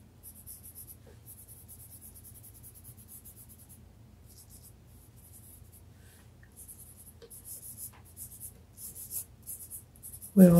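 Pencil sketching a fox on paper, a soft scratchy graphite rasp in repeated short strokes with brief pauses, close and quiet, ending in a louder knock.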